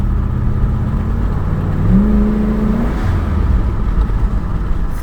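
A Lincoln Aviator fitted with a 2003-04 Cobra engine and a leaking exhaust manifold, revving with a loud, steady rumble that climbs in one brief rise before settling back to idle.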